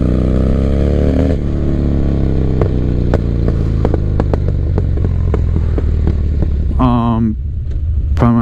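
A 1985 Harley-Davidson FXR motorcycle cruising, its engine a loud, deep, continuous rumble with clattering pulses and a brief rev change near the end.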